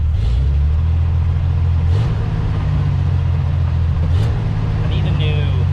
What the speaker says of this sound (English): periodically it will backfire